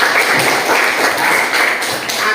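A group of students in a classroom claps together, producing a brief burst of dense, steady applause that stays close and loud from start to finish.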